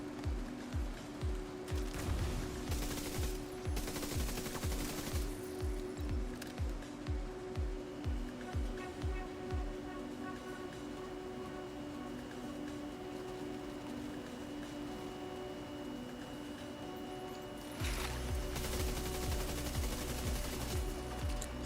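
Deployed turret in The Division 2 firing rapid automatic bursts at rushing enemies, loud repeated volleys of gunfire in a fast rhythm that pause and resume over a steady game backdrop.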